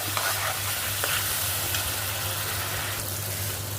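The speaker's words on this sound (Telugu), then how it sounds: "ఇప్పుడు ఈ ఉల్లికారం పేస్ట్ ఇందులో వేసేయాలా దీన్ని మంచిగా కలుపుకోవాలి మనం" Onion and red chili paste sizzling in hot oil as a spoon stirs it through the pan for a chicken and spinach curry, a steady crackling hiss broken by occasional scraping strokes, with no talk.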